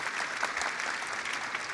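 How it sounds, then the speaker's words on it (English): Audience applause for a jury member at a startup pitching competition, a soft, even patter of many hands clapping in a large hall, fairly distant and steady throughout. "Please give Rebecca an applause."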